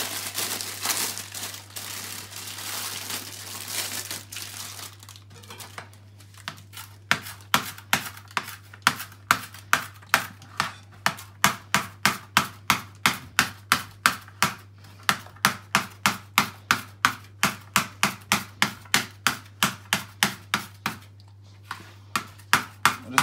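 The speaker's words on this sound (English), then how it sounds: "I'm going to chop some coriander" A kitchen knife chops fresh coriander on a board in fast, even strokes, close and crisp, the rhythmic taps running for about twenty seconds after a softer opening of rustling, with a low steady hum underneath.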